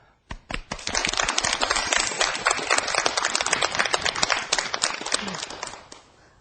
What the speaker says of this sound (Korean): 박수로 청해 듣도록 하겠습니다